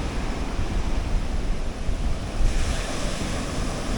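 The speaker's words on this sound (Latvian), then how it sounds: "No, Indijas okeāns." Indian Ocean surf washing onto a sandy South African beach, a continuous rushing roar of breaking waves mixed with wind across the microphone.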